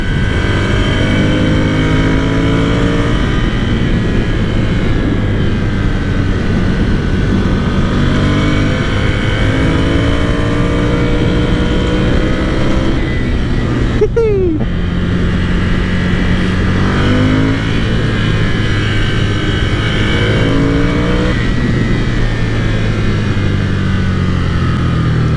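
A Ducati Scrambler Cafe Racer motorcycle engine drones steadily as it is ridden at a moderate pace, with rising and falling revs through gear changes and a brief dip around a turn, heard from the rider's position with no talk.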